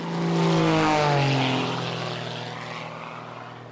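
A four-engine propeller airliner in flight from the 1980 comedy film Airplane! drones loudly and close, its engine pitch sliding downward as the steady roar slowly eases off.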